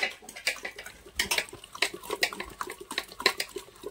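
Malpua batter of maida and suji thinned with water is beaten by hand in a bowl, giving quick, irregular wet slaps and clinks in a rapid rhythm, faint and close.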